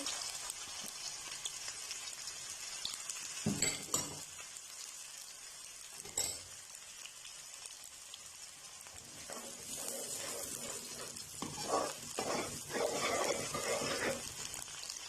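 Finely chopped onion sautéing in a pan, a soft continuous sizzle with a few sharp stirring clatters and a louder crackling burst near the end.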